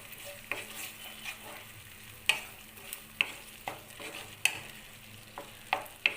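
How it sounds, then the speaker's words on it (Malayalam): A spoon stirs a tomato and chilli sauce mixture in a hot pan, with soft, steady sizzling and repeated sharp metallic taps and scrapes, close and fairly quiet. "ഇനി ഇത് നല്ലപോലെ ഒന്ന് മിക്സ് ചെയ്തെടുക്കാം."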